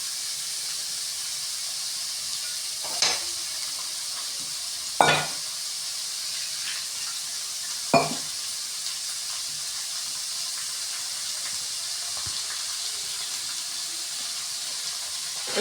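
Sliced beetroot frying in a kadai for Tamil beetroot poriyal: a steady, close sizzling hiss runs throughout, broken by three sharp utensil clinks, with no talking.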